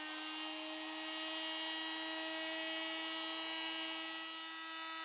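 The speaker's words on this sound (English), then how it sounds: "Preliminary sanding is carried out with 500 and 1000 grit sandpaper and the large sanding disc." A FEIN MultiMaster oscillating tool sands a boat surface with a large foam-backed sanding disc and 500 to 1000 grit sandpaper, giving a steady, close, high-pitched buzzing whine that holds without pause throughout.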